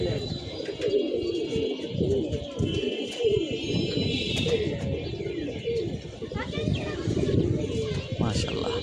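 Pigeons coo steadily in a loft, layered with chirps from other birds and children's voices in the background, with people talking nearby.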